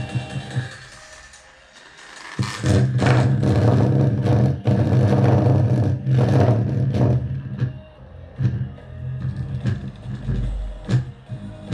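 An electric car window motor powered by a Taramps 2.0 kW amplifier whirs loudly up close in strained, revving bursts, with mechanical grinding and creaks, brief drops and restarts.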